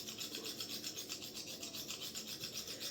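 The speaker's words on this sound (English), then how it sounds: "You get to sit there and watch me yap and hone a razor for 10 minutes." Straight razor honed on a sharpening stone while setting the edge, a steady rhythmic rasping of blade strokes back and forth across the stone, close and continuous, with no talk.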